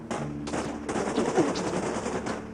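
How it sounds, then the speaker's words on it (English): A firing squad opening fire at an execution: a sustained, loud burst of rapid overlapping gunshots lasting a couple of seconds, with sharp repeated cracks over a dense roar. "The firing squad opened fire."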